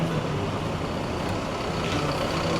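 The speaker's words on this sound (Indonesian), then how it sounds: "Oh, ini ada bis Sinar Jaya Street Class nih, Jakarta Malang" A Sinar Jaya Street Class bus on the Jakarta–Malang route, a steady loud engine rumble close by with a brief hiss partway through and no speech.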